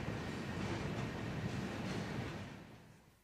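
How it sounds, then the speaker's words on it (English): A train departing on the Big South Fork Scenic Railway gives a steady, broad rumbling roar at moderate distance that holds evenly, then fades away toward the end. "the occasional sound of a departing train on the Big South Fork Scenic Railway"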